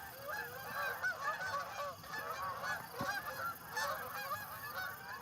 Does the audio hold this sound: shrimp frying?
no